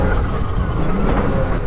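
A Can-Am Maverick R turbo side-by-side runs at speed with a dense, loud, continuous engine roar and rushing noise, briefly heard up close without talk.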